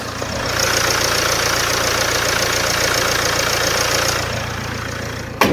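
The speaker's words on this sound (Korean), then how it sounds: "지금 바로 엔진 소리 한번 자세하게 들려드리겠습니다" Engine of a 2018 Land Rover Discovery Sport luxury four-wheel-drive SUV with 139,000 km, heard idling with the bonnet open: a steady, smooth, quiet hum that stays even for several seconds, then drops off near the end.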